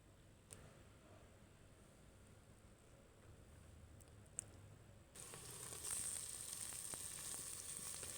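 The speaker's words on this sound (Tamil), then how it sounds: "பச்சை மிளகாயும் போட்டு ஒரு 2 நிமிஷம் அப்படியே வணக்கி விட்டுறலாம்." Green chillies sautéing in a pan for a Pongal aviyal kootu, a faint low sizzle that swells into a louder, steady crackling hiss partway through, with no talking.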